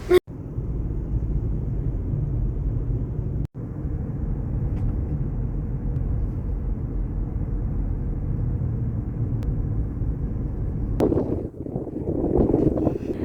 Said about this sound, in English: it's just as windy as it was last year